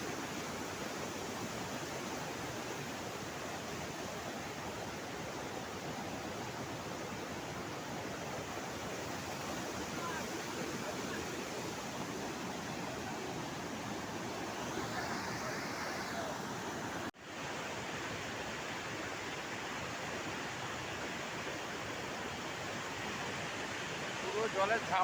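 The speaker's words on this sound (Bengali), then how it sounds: "খুবই সুন্দর জোনা ফলস" Jonha Falls near Ranchi roars as a broad, constant rush of falling water, dense and unbroken for the whole stretch, with a brief dip near the end.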